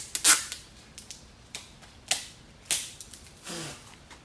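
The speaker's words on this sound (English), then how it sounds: "And I'm going to put a little tape underneath it." Adhesive tape pulled and pressed under a ribbon on a mesh wreath: a handful of sharp, close clicks and brief crackling rips spaced irregularly, with quiet gaps between and no voices.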